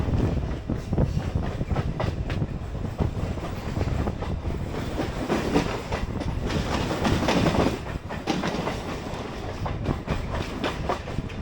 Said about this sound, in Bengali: এরকম এক্সপ্রেস ঢুকছে, গীতাঞ্জলি ঢুকছে এখন এই মুহূর্তে